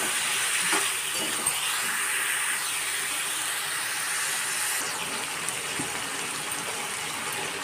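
Mixed vegetables and salt being stirred in a hot pan, giving a continuous close sizzle with a faint hiss of steam and a few soft scrapes.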